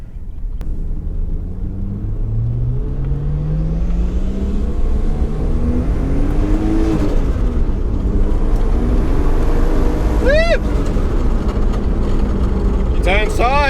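A Nissan Skyline R31 is driven with loud engine drone rising and falling through acceleration and gear changes, heard from inside with a few sharp whistling squeals near the end.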